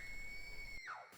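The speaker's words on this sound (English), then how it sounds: "Distant screams echo around them." A faint, distant scream echoes in a fantasy audio-drama scene with dragons soaring through haze. A single drawn-out cry holds steady, then slides downward and cuts off, all within about a second.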